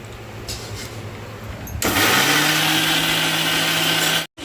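A mixer grinder grinding jaggery whirs to life partway through, its motor settling into a loud steady hum, then cuts off abruptly near the end.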